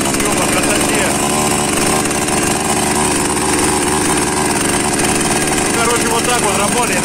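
A gasoline chainsaw runs loud and continuous at close range, its engine droning steadily through the whole stretch with no pauses, and voices can be heard alongside it.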